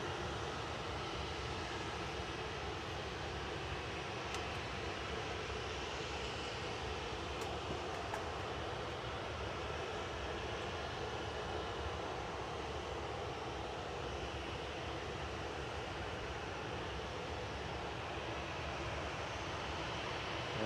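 An airliner departs Manchester Airport on a flight to Faro, Portugal, making a steady, broad jet roar that holds at an even loudness for the full stretch, with no talk over it.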